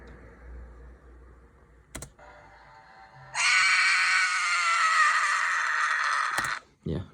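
Crackly recorded vocal scream, raw and without EQ, a harsh sustained distorted yell of about three seconds that starts abruptly after a brief quieter lead-in and cuts off sharply.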